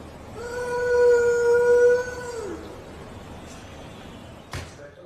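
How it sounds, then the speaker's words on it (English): A neighbor's dog answers a man's howling with one long, steady howl lasting about two seconds. It sounds fairly close and fades into quiet background, with a brief thump near the end. "Guy howls at neighbor's dog and gets this response."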